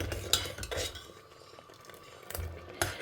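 Cooked dal and greens are mashed in a vessel with a utensil, giving a few soft, close scraping knocks spaced apart in a quiet kitchen with no talking.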